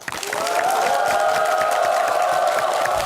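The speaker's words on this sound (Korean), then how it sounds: "큰 박수로 맞아주시죠" An audience welcoming a guest with applause and some cheering at a televised talk event; the clapping runs steadily beneath loud sustained welcome music, fairly close and without speech.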